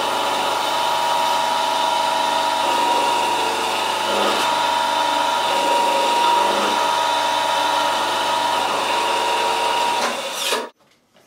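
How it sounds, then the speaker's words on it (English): Power drill boring the tenon hole in a tobacco pipe, a steady loud motor whine with constant tonal hum running unbroken for about ten seconds before cutting off abruptly into silence. "Okay, now we drill the hole for the tenon."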